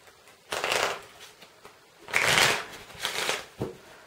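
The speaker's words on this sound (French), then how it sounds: "On va remélanger, voilà." A deck of playing cards being shuffled by hand, several quick riffling bursts of varying length with short pauses between them, close and clear with no talking.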